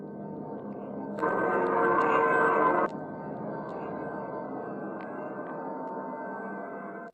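Imagined radio signal from the interstellar object 3I/ATLAS: a dense electronic burst of about two seconds stands out against a steady background hiss, followed by faint scattered clicks.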